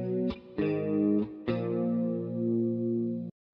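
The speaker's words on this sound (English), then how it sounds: "Just turn it into a power chord." Electric guitar power chords run through effects such as distortion and chorus, with a few quick strums before one sustained chord that rings out and cuts off abruptly, played alone.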